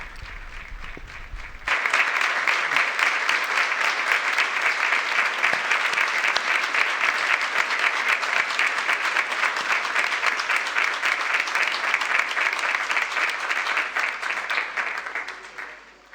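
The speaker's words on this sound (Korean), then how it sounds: "저 하늘에 계신 그분의 귀에까지 들리도록 박수를 쳐드립시다" A large crowd at a 2019 youth festival bursts into loud, sustained applause after a brief quieter moment. The clapping stays thick and even for over ten seconds before tapering off.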